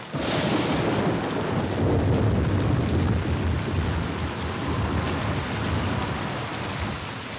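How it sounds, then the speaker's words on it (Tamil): Heavy rain with thunder in a Tamil action film, a loud unbroken downpour roar with deep rumbling filling the whole stretch, no voices. "அண்ணாச்சி ரொம்ப மழை பெய்யுது."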